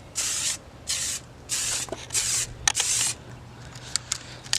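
Spray can of rubber coating being applied to a car: a series of sharp, hissing bursts, about five long sprays followed by several shorter quick puffs, close and loud with no talking.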